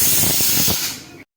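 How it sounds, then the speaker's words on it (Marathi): Steam hisses hard from a pressure cooker whistle on medium heat while spiced matki rice cooks, a loud continuous spray that holds steady for about a second and then cuts off abruptly. "मध्यम आचेवर आपल्याला कुकरची एकच शिट्टी करून घ्यायची आहे"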